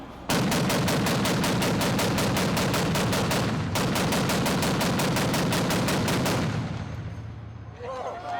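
Burst after burst of automatic fire from a M1919-era machine gun of World War II vintage, fed from a belt of cartridges, rapid evenly spaced shots in two long strings, loud and close, fading into echo at the end.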